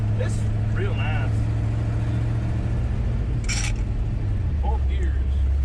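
A dump truck's engine drones loud and steady as it drives, a constant low rumble from inside the cab with brief scattered voices and rattles on top.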